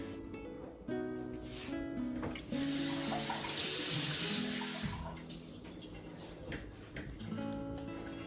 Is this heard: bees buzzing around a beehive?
no